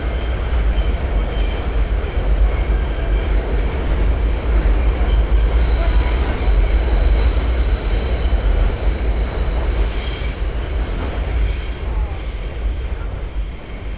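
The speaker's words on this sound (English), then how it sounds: "we will have train traffic above us at times" An elevated Manhattan-bound subway train rumbles loudly overhead above a Bensonhurst street fair on 86th Street, wheels squealing and screeching in sustained high tones over a heavy, continuous low roar for the whole stretch.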